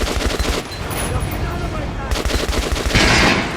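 Rapid automatic gunfire in the video game Metro: Last Light Redux, loud and close, sustained bursts rattling almost without a break, with a voice faintly underneath.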